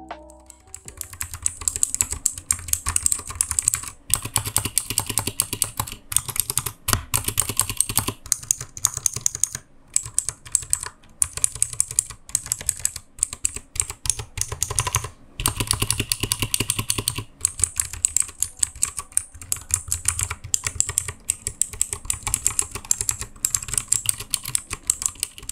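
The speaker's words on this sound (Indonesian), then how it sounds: "Kalau menurut gue sih ya khas blue switch, cukup clicky dan tactile juga." Clicky blue-switch keys on a Dareu EK828 one-handed mechanical keyboard are typed in a steady, fast stream of sharp close-up clacks with brief pauses, and no voices are heard.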